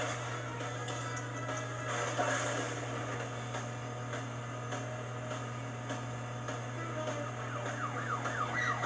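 Police car sirens in the video game Crash Bandicoot 3 N. Sane Trilogy, a wailing siren rising and falling beneath steady game music and engine hum, fairly faint in the mix.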